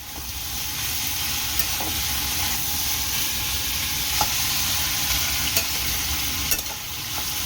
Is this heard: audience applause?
no